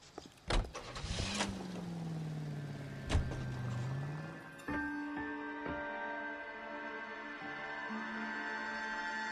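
A period car in the video game L.A. Noire starts up and drives off: a door thud, then the engine revving and rising through gears, a steady close drone without speech.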